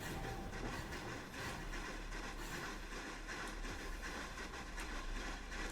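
Railroad caboose rolling along the tracks, a steady rumbling hiss with faint repeated clicks from the rails, continuous and unbroken throughout.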